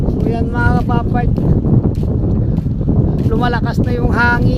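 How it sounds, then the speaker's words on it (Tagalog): Strong, rising wind roars steadily against the microphone throughout at Lio Beach, El Nido, Palawan, before rain, with people talking over it. "lumalakas na yung hangin"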